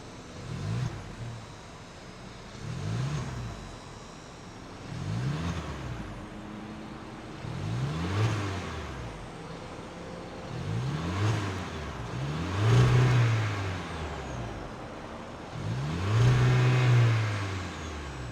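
A 2026 Volkswagen Jetta Sport with a 1.5-liter turbocharged four-cylinder engine revving repeatedly, about seven rises and falls in steady succession, each swelling louder toward the end, close and without talk.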